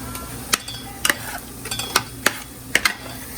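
A spoon scrapes and taps against a cooking pot in irregular strokes, stirring ground coconut paste into lentil curry while it sizzles gently underneath, close and clear.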